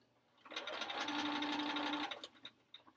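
Sewing machine stitching together quilt blocks for a sampler quilt with a scant quarter-inch foot, a single close burst of rapid whirring stitches lasting about a second and a half, then a few small clicks.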